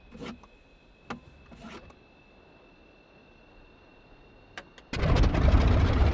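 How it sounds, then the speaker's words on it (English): A Yak-52 aircraft's radial engine cranks with a few clicks and clunks, then catches and roars into a loud, steady run close by. "Alright, we've got the engine started."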